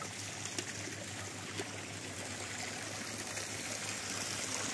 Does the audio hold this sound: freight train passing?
no